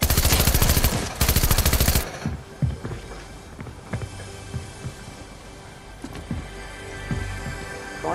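Rapid automatic gunfire from a video game: dense bursts of shots in the first two seconds, followed by scattered single shots and thuds amid game ambience, with no talking.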